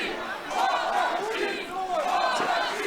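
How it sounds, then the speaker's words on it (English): Wrestling crowd at a live show chanting and cheering in rhythmic swells, a loud sustained roar of many voices filling the hall. "and as you can hear, large portions of this crowd have been absolutely wowed by Mike Vecchio this year."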